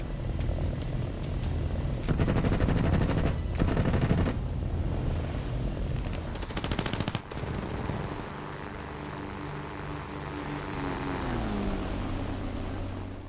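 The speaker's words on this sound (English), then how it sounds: "firing a long burst head-on at one MiG-3" A fighter plane in a dogfight rattles out long bursts of machine gun fire over a droning aircraft engine, then the guns stop and a steady engine drone with shifting pitch carries on alone.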